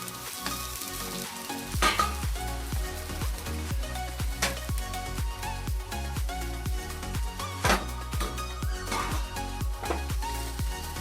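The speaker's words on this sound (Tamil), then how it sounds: "நல்லா வதக்கிக்கணும். இந்த அளவுக்கு நல்லா வறுத்து எடுத்துக்கோங்க." Ingredients for a brinjal gravy fry and get stirred in a pan, a steady close sizzle with rhythmic scraping strokes running throughout and no talk.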